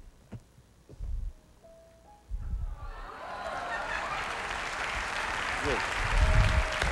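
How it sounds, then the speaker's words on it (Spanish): Audience applause for a Rottweiler trainer in Miami swells in after a quiet start with a few thumps and a faint tone, building into broad, sustained clapping that grows louder toward the end. "Un aplauso para don Roberto"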